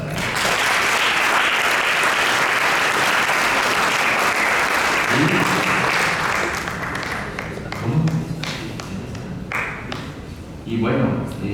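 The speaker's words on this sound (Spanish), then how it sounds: "Un aplauso para él." Audience applause fills a seminary lecture hall after a conference, loud and steady for several seconds before thinning into scattered claps and a few voices speaking.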